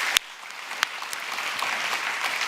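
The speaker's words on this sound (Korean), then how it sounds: "우리 격려와 감사와 응원의 박수" Church congregation applauding to thank the stage decoration team, a steady even wash of clapping from a room of people held at moderate level throughout, with a couple of sharper claps standing out near the start.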